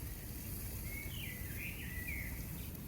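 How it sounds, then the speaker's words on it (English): Birds sing at a distance in the New Forest, a few thin, high chirping phrases rising over a steady low outdoor rumble, faint and intermittent across a quiet campsite scene. "The birds are singing."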